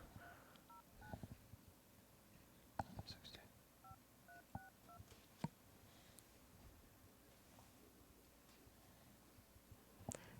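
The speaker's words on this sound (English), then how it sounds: "let's give him a call here" A phone number is punched in as short bursts of touch-tone beeps in small clusters, with brief pauses between digits, over faint background murmur and rustle.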